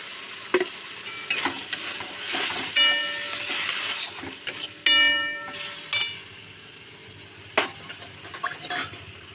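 Ash gourd for shukto is sautéed with a cashew and fennel paste in a pan. A steady sizzle runs throughout, broken by repeated spatula scrapes, some with a squeaky, ringing edge.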